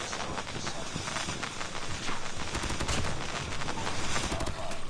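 Rapid automatic AK117 rifle fire in the mobile shooter game COD Mobile, dense continuous bursts of gunshots at close range with no talk.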